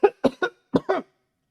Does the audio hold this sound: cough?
yes